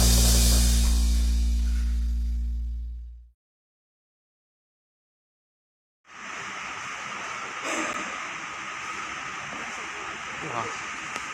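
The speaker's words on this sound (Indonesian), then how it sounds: "ini kereta api berapa Pak?" A CC 508 diesel locomotive hauls a train through the Banyumas–Purwokerto area in Indonesia, its steady hissing, rumbling roar rising abruptly after a silent gap and holding loud and close, with a few clanks over the passing cars.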